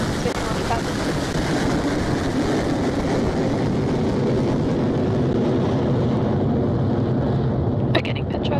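Rocket engines roaring at liftoff from the launch pad, a loud, continuous broadband rumble that holds steady throughout, with a brief crackle near the end.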